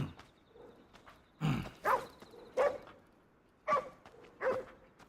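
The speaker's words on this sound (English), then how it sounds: "And another dog stalking me." A dog in the Ghostwire Tokyo video game barks five times in short, spaced bursts at irregular intervals, moderately loud against a quiet background.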